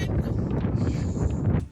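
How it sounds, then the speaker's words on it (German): Strong wind with drizzle buffets the microphone on a hiking trail in Gran Canaria, a loud continuous low rumble and rustle that fades briefly at the end, with no talking. "Aber es ist schon wieder Sprühregen im Gesicht und voll der Wind"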